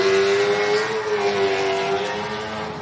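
A 7-litre race car engine roars loudly with a steady, snarling tone as it launches off the line and pulls away, sustained throughout.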